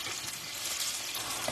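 Pieces of fish fry in hot oil, a close, steady, hissing sizzle with faint bubbling crackle and no voices.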